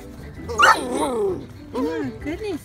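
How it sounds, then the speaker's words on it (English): Puppies bark and growl in a couple of short, close bursts with a whimpering tone, mixed with a voice talking over them. "Y'all are some scary puppies."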